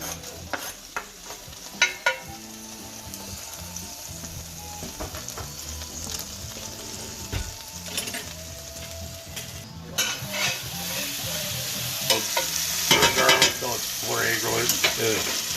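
Garlic sizzles and fries in a pan for beef and broccoli, a steady crackle with stirring and clinks of a utensil against the pan, growing louder toward the end.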